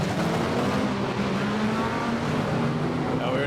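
Speedway race cars roar around the track in a winner-take-all Manawatu Championship race, a dense, steady engine drone with cars passing at mid distance, under a commentator's voice.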